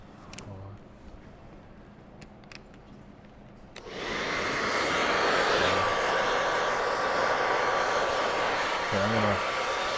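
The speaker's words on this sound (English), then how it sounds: "we're gonna blow dry this" A hair dryer blows on hair after a skin fade haircut, switching on abruptly partway through and then running as a loud, steady whoosh until the end, following quieter handling noises.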